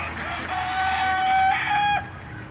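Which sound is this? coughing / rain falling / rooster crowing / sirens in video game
rooster crowing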